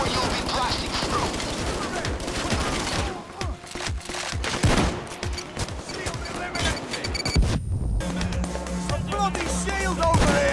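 Gunfire during a Payday 2 heist, dense rapid bursts of automatic and single shots crackling continuously, with voices calling out over the shooting.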